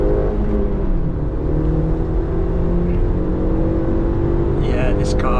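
A 2003 Audi TT 225 Quattro with a flashed ECU accelerates hard uphill, its engine droning loud and steady from inside the cabin as revs climb, with someone talking over it.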